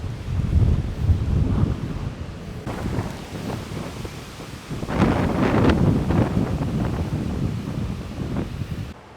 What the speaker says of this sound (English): the trees are blowing pretty hard here, folks